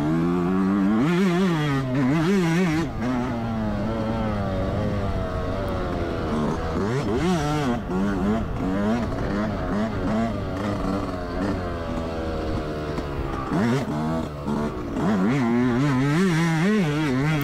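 A 2024 Yamaha YZ125X two-stroke dirt bike is ridden hard, its engine revving up and down in rapid buzzing surges as gears change, loud and steady throughout the ride.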